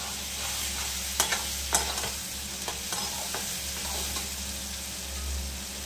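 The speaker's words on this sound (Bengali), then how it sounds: "এটা ভাজা ভাজা হয়ে গেছে" Potatoes fry and sizzle in a pan with mustard seeds, green chilli, garlic and a little cumin powder, a steady close hiss broken by a few sharp stirring scrapes and clinks.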